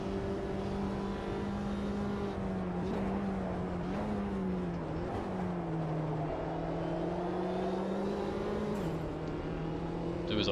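A JCW Mini Cooper race car in Automobilista 2 at Road America, its engine droning steadily with pitch rising and dipping as it accelerates and shifts, heard close from the cockpit without a break.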